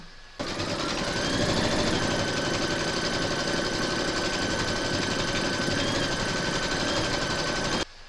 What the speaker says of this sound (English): pop your hoop into your machine and stitch round number 1, and that's going to give you your placement outline for your batting